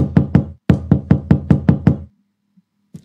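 Two rounds of loud, rapid knocking at an apartment door in a horror hide-and-seek game, first two raps then about seven in a steady run, ending with a faint low sound.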